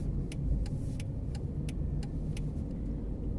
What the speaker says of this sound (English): I'm just driving around randomly,